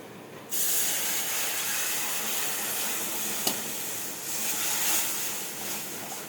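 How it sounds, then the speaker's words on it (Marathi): Water poured into millet flour roasting in a hot pan sets off a loud, steady hiss that starts abruptly and keeps sizzling throughout, with a small clink partway through. "आपण पाणी टाकू."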